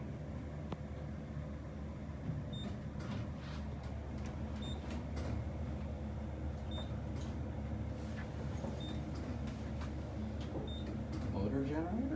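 Westinghouse traction elevator motor generator running in a Chicago machine room, a low steady hum with faint periodic clicks and beeps, while people talk quietly nearby.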